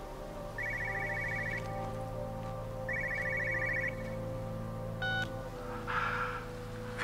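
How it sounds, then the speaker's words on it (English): A car phone in the video game Everybody's Gone to the Rapture rings in two repeated electronic trill bursts with a pause between them, then a short beep, heard over a low ambient hum. "Car phone."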